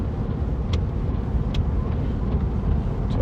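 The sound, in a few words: Chevrolet Corvette C7 driving in rain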